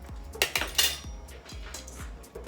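Pet dog Winston eating and drinking from his bowl on a kitchen floor, producing a series of light clinks and knocks of the bowl, fairly close and irregular, with soft lapping between them.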